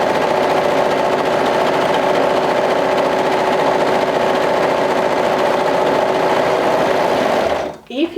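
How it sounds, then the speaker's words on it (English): A sewing machine top stitching a romper, running in one loud, continuous, even whir for about seven seconds before winding down abruptly with a short clatter. "add top stitching."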